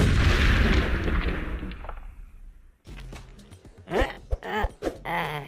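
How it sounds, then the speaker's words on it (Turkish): A bomb blast in an Among Us cartoon, a loud broad rumbling explosion that fades over a couple of seconds, followed by a cut to excited animated voices talking. "Lan bomba koymuş şerefsiz!"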